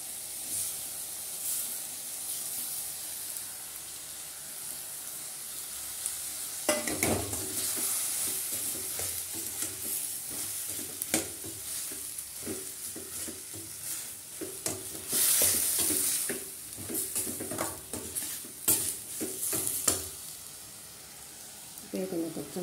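Goat lung gravy with tomatoes sizzles and hisses in a pan, with a spoon stirring and scraping at close range. The sounds swell in louder stretches, and faint voices can be heard in the background.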